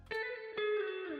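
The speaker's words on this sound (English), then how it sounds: "the other one, the guitar one, sounds like this" A dry guitar phrase sample played back in FL Studio with no effects applied, a few plucked notes sustaining into each other, close and clean, with no talking.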